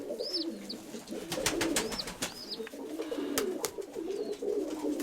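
Pigeons coo steadily at a market, with several birds calling close by over a busy, continuous background murmur.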